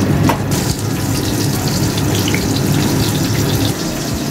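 Water runs into a bowl of ground coriander and Kashmiri chilli powder to make a spice paste. The close, steady gushing pour lasts a few seconds with little variation.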